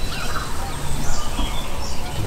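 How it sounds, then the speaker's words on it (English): Wild turkeys gobble repeatedly during a bowhunting setup for turkeys in the Midwest, several birds calling at a distance through a loud, noisy outdoor background. "A lot of birds gobbling."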